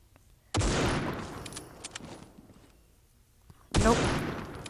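Two bursts of rapid automatic gunfire in the mobile shooter Critical Ops, loud and close, separated by a stretch of quieter scattered shots and game noise.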